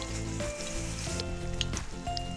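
A large schnitzel fries in a pan over a campfire, giving steady close sizzling with occasional pops and soft clinks, and no one talks.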